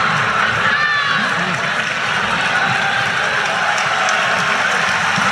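Arena crowd at a college volleyball match between Florida and Florida State, a steady, loud murmur and roar of many spectators with scattered clapping throughout.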